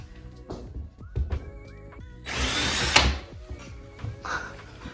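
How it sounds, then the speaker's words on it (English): A power drill whirs in a short, loud burst lasting under a second while drilling an anchor hole for a wall-mounted rack, surrounded by quieter clunks and handling noises. "Let's drill our anchor hole."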